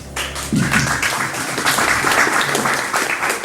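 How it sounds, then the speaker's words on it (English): Audience applause at a university talk on AR, VR and 3D technology rises into a dense, loud wash of clapping that holds steady to the end after a brief low hum at the start. "Round of applause."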